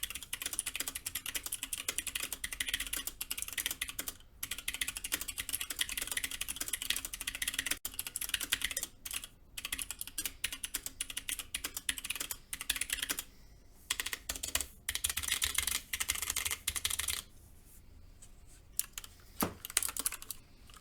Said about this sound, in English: This is her LJD 61 up black carbon fiber with Aristotle switches.